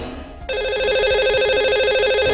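A telephone on a Hindi call-in radio show starts ringing abruptly and keeps up a loud, steady electronic ring that fills the rest of the moment.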